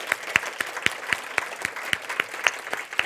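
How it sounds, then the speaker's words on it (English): A small audience at a literary festival author talk applauds, sparse, distinct claps in a steady rhythm, fairly faint and heard alone. "Should we just give a big round of applause, a big thank you?"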